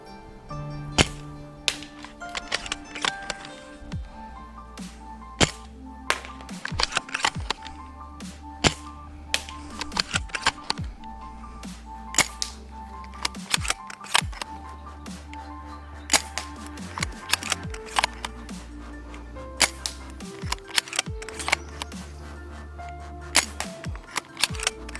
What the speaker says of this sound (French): je ressors du test de tir de cette réplique.